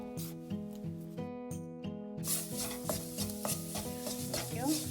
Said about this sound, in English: Let's mix this well and let's cook the all-purpose flour in this butter.